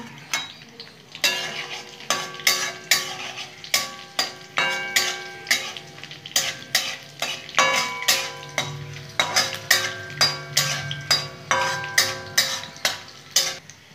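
Crushed garlic fries in a pan under brisk, rhythmic spatula strokes, each scrape and tap landing about twice a second over a soft sizzle, up close and without speech.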